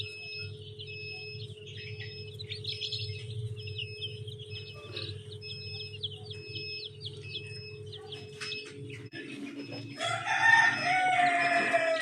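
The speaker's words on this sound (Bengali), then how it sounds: "এই যে এখানে 100 মুরগি আছে" Chickens on a poultry farm keep up a constant low murmur of clucking, with a rooster crowing, and a louder burst of squawks and calls near the end.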